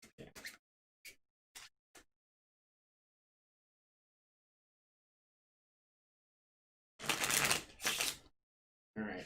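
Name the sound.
shuffling a deck of board game cards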